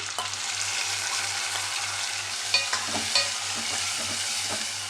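Tomatoes frying with browned onions in a pan for a ghee-cooked brinjal tamarind stew give a steady close sizzle, with a few sharper clinks and pops from stirring near the middle.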